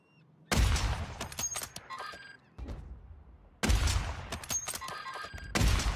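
Warzone video game gunfire: bursts of rapid shots crack out in two loud clusters separated by a brief lull, with sharp impacts and shell clatter, with no talking over them.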